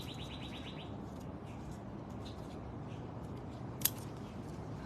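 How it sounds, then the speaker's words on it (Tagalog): Faint bird chirps repeat over steady outdoor background noise, followed by a single sharp click near the end. "Ang daming ibon dito."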